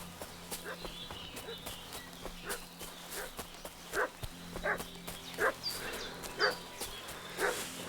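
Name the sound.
dog barking at Bajena's, from the video game Kingdom Come Deliverance 2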